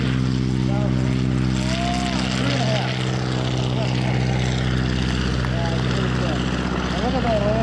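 Propeller airplane starting its takeoff roll, with a loud, steady engine roar that holds throughout, as someone talks over it.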